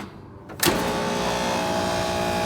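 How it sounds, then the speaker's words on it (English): A walk-in cooler's scroll compressor, wired to run backwards, kicks on with a sudden loud onset and settles into a steady, close, humming mechanical drone that holds without a break. "running a compressor the wrong way"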